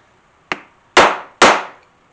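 A claw hammer striking steel leather punches delivers three sharp metallic blows, one lighter tap followed by two heavy ringing hits, close and loud in a quiet room.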